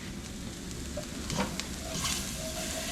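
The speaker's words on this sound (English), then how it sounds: "we're just going to add in a little bit of milk to stir it around" Milk being stirred into a flour roux for broccoli cheddar soup, a brief close stretch of soft sizzling with a few spoon scrapes and clinks in the pot, fairly quiet and without speech.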